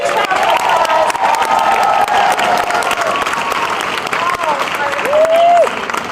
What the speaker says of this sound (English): Now give these girls a huge round of applause.